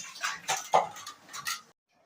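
Dishes and pots clink and clatter during washing in a home kitchen, several short sharp knocks at an irregular pace, fairly close, then quiet.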